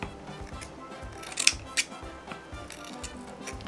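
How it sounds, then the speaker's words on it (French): Fabric scissors snip through tulle in a few faint, crisp cuts, with quiet rhythmic handling noise between them and no talking. "Pourtant, ce sont des ciseaux pour tissu."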